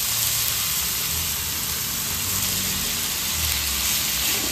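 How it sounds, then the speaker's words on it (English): Grated carrot frying in ghee in a pan, a continuous even sizzle like light rain, heard alone at a steady level. "And now we are going to fry in the carrot. So we are going to add in the grated carrot in."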